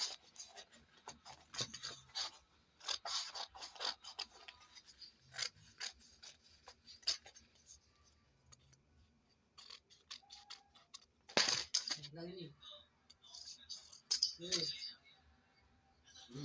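Scissors snipping through a paper pattern for a katori blouse, a series of crisp irregular cuts and rustles, close and moderately loud, with someone talking between cuts.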